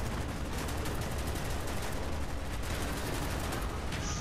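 Gunfire and artillery in the video game Call of Duty: Black Ops, a dense, continuous barrage of rapid shots and blasts, loud and unbroken.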